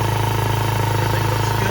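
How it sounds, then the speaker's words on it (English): A Honda Navi motorcycle engine idles without the choke after carburetor rejetting, a steady close putter with an even rhythmic pulse throughout. "Idling without the choke down."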